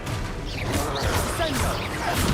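A Confringo blast spell strikes in the game Hogwarts Legacy, a dense burst of crashing, whooshing impacts over layered game music and effects, loud and continuous throughout.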